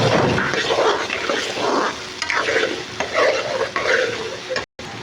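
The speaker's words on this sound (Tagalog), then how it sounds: "Haluin para lumapot" Sauce is stirred in a pan as it thickens, a continuous sizzle with scraping and clinking of a utensil against the pan, close and fairly loud, ending with a brief dropout.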